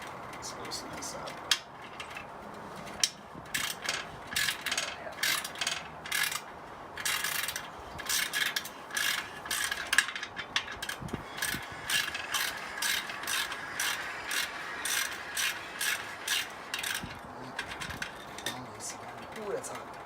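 Hand ratchet loosening a bolt on an Indian Scout motorcycle exhaust during a baffle install: repeated close bursts of rapid clicking pawl strokes with short pauses between, and a person talking at times over it.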